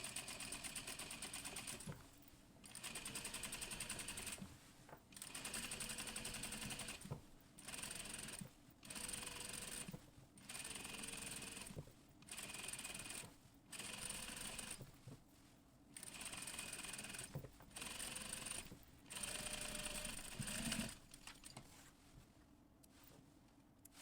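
A sewing machine topstitches bias binding along a garment neckline in repeated bursts of steady whirring, each run broken by short pauses, close and fairly quiet with no voices.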